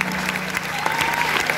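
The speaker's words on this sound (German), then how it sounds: "Und ich nehme mal einen extra Applaus" An outdoor audience claps steadily through a water-ski stunt show at Holiday Park, a dense, even wash of applause from a crowd with no break.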